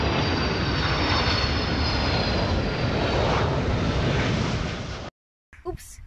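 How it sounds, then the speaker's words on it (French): A model airplane engine roars steadily and loudly at an outdoor aeromodelling meeting as the aircraft comes in to land, then cuts abruptly to silence before brief background noise and faint voices. "tu poses l'avion au pied"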